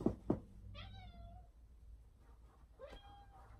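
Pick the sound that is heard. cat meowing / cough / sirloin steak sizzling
cat meowing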